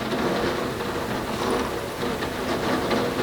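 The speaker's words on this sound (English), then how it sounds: "there's like rain coming down and you can hear it on the windows" Rain falling on windows and skylights indoors, a dense steady patter of drops spread evenly, fairly loud and continuous with no voices.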